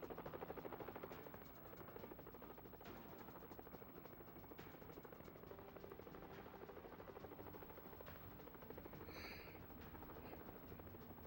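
A helicopter in the game Mission: Impossible gives off a steady, close rotor thrum with rapid rhythmic chopping that holds for the whole stretch at a constant level.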